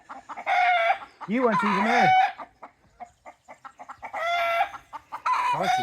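Rooster crowing loudly and repeatedly in a chicken pen, with hens clucking in bursts between crows, close to the microphone; a person speaks briefly amid the birds.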